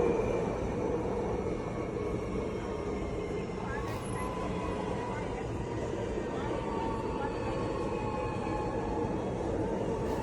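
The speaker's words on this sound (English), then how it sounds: "Sydney metro doors open whilst moving this morning, April 2nd." A Sydney Metro train travels with its doors open, a steady loud rumble and wheel roar from inside the carriage with faint high squeals, continuous throughout while muffled voices talk underneath.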